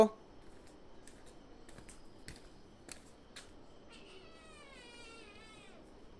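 A cat meows in a drawn-out, wavering call near the end, after scattered clicks and faint background sounds.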